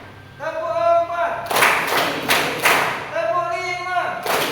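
A group of people clap in a counted classroom clap pattern, a burst of about four sharp, loud claps together, with a voice speaking before and after.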